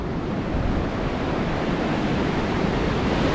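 Waves washing onto a soft-sand beach by a bay on the Eyre Peninsula, a steady, loud broadband roar of surf mixed with wind buffeting the microphone, continuous with no talk.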